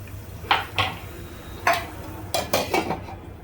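Onions frying in a pan while being stirred, with a faint sizzle underneath and several distinct metallic scrapes and clinks of a utensil against the pan, spaced irregularly and fairly close.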